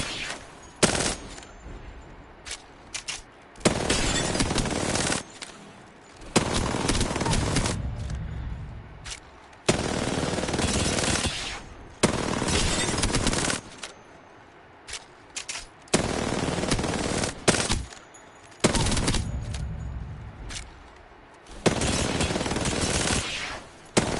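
Automatic gunfire in a shooter video game rattles out in about ten loud bursts of a second or two each, separated by short quiet gaps, with no talking.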